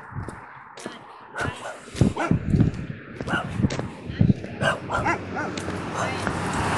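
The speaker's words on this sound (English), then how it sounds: "Yeah, those are dogs in the background that you're hearing." Several dogs bark and yip in short scattered bursts in the background, mixed with someone talking and a steady outdoor rumble.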